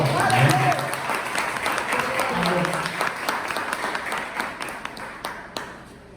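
A church congregation applauds steadily throughout, a dense wash of many hands clapping with a few sharper claps standing out near the end.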